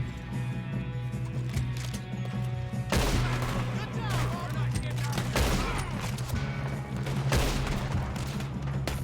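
Heavy, sustained gunfire in the Red Dead Redemption 2 video game, dense volleys of overlapping shots with booming bursts under a steady low hum, loud and close throughout.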